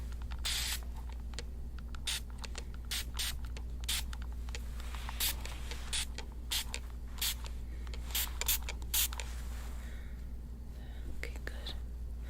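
Water spritzed from a spray bottle onto a cold tissue laid on a face in a beauty salon setting, a run of sharp, close hissing bursts in irregular rhythm over a constant low hum, no talking.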